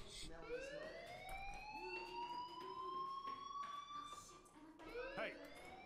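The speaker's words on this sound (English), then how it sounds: "do you hear that fire alarm?" In the Life is Strange video game, a fire alarm wails with a rising, siren-like tone that sweeps upward and holds, quiet and under voices talking over it, with a second rising sweep near the end.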